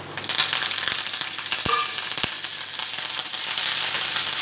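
Spices, dried chillies and curry leaves crackle and sizzle steadily in hot ghee, a dense hiss with a few sharp pops, close and continuous with no talking.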